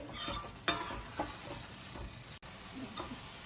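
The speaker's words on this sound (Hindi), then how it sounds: "तो हम इसे अच्छे से मिक्स करेंगे" Spoonfuls of chole and masala are stirred in a hot pan, with scraping strokes at an uneven rhythm over a steady low sizzle, close and moderately quiet.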